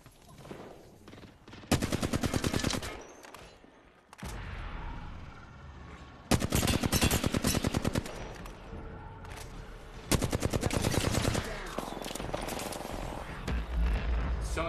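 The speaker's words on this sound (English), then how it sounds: "Someone's using that Lobo shot behind you, Sean." Video-game gunfire from a Lobo shotgun: several loud sustained bursts of rapid shots separated by quieter gaps, with booming low-end impacts.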